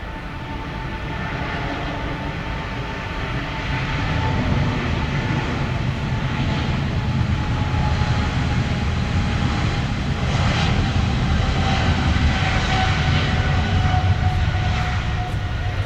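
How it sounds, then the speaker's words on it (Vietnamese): China Airlines Boeing 777-300ER taking off from Tan Son Nhat airport, a loud, sustained jet engine roar that swells after a few seconds and holds steady, heard from a distance across the airfield. "mời mọi người chiêm ngưỡng pha cất cánh của chiếc máy bay này"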